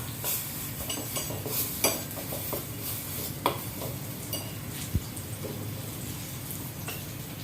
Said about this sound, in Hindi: सब मसालों को मैं अच्छी तरह से सौते करूँगी